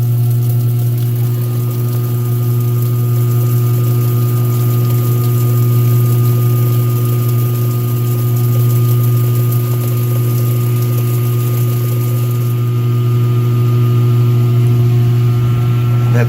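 A 2017 Speed Queen washing machine runs a rinse cycle, giving a steady, loud drone with a constant low hum and pump-like whir, water sloshing and gushing throughout with no pause.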